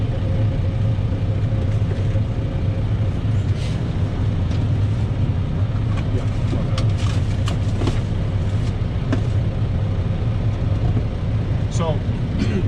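A truck engine runs at a steady low rumble in the cab during double-clutching gear changes, continuous and fairly loud with faint clicks and rattles on top and no clear speech.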